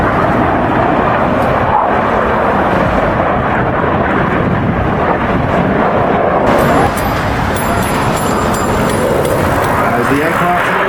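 Loud, continuous roar of an aerobatic jet formation sweeping past at the Toronto Air Show 2024, a broad rumbling wash of engine noise that shifts tone midway, with an announcer talking over it.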